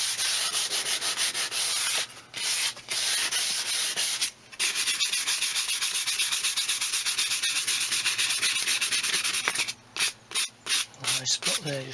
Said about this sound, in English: I'm just going to give it another light sand, just remove any hide spots and imperfections, just to make it nice and smooth again